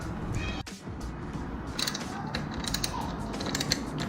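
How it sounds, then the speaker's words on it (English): Bolts on a Fox 36/38 fork mud guard being tightened by hand on a YT Capra Elite 29 mountain bike, giving close mechanical ratcheting clicks and creaks that run steadily through the clip with no talk. "now it's the time to tighten up the sockets, the right and the left"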